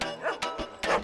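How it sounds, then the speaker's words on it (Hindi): A dog barks indoors, three or four quick yapping barks in a fast burst, close and fairly loud. "अंदर कुत्ते की आवाज क्यों आ रही है?"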